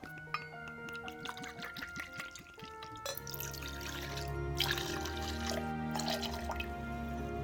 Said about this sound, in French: On passe à notre Negroni revisité de MXO, on le secoue un petit peu, et on va verser du coup 9 centilitres.